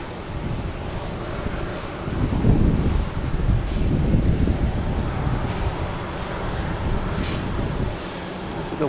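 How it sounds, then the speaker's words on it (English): Cape Air propeller plane arriving at Boston Logan from Provincetown, a steady distant engine drone swelling slightly as it nears, blended with gusty wind buffeting the microphone. "So next to arrive is a Cape Air coming in from Provincetown."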